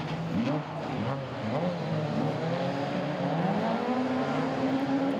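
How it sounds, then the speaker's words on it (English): Rallycross race car, a BMW in the Super Nationals over 2 litre class, accelerating hard off the start in Belgium, its engine note loud and continuous as it climbs through the revs. "Great start for Volders in the BMW."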